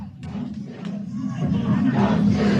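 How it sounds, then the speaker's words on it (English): Crowd of hundreds of protesters chanting with hands up in Minneapolis streets during a curfew after the 3rd precinct burned, a dense, steady roar of many voices that swells slightly louder partway through. "There are hundreds of people here, their hands up, saying, hands up, don't shoot"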